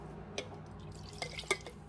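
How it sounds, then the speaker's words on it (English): Liqueur pours into a drink in a glass with a few soft, faint splashes and drips, close and quiet with no talk. "Pour it into your drink."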